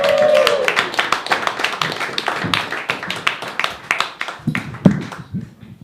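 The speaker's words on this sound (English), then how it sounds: "Give a loud round of applause for Shauna." An open mic stand-up comedy audience claps for a comic coming on stage, a close, brisk burst of many hands that thins toward the end, with a voice briefly heard at the start.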